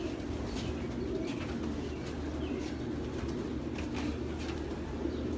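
Pigeon cooing softly in a loft, low murmuring calls under a steady background hum with a few faint chirps, fairly quiet and continuous throughout.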